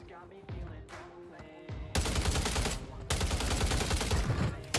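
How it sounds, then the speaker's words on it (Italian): Rapid weapon fire in the video game Warzone on Rebirth Island, with a zappy, laser-like quality. Dense, loud bursts start about two seconds in and run almost without pause to the end, following quieter game sounds. "Perché l'arma sembra sparare raggi laser dal rumore che fa?"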